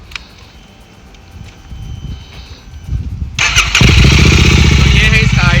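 A Royal Enfield GT 650 motorcycle fitted with an aftermarket exhaust is started: a quiet stretch with a little background talk, then the engine fires abruptly and settles into a loud, deep, throbbing run close by.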